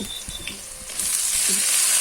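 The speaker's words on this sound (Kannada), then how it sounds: "ಒಗ್ಗರಣೆಗೆ ಹಾಕಿ ಚೆನ್ನಾಗಿ ಎಣ್ಣೆಯಲ್ಲಿ ಬೇಯಿಸಿಕೊಳ್ಳಬೇಕು" Steady oily sizzling of a tempering frying for cluster bean (gorikayi) palya, rising and getting louder halfway through, with a few soft stirring clicks underneath; no voices.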